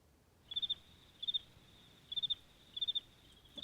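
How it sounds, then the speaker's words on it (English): Crickets chirp in short, regular bursts of rapid pulses, several trills spaced evenly apart against a quiet background, fairly faint and with no talking. "Crickets."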